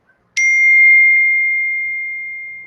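A phone notification rings out as a single clear ding with a long ringing tail that slowly fades, loud and close in an otherwise quiet room.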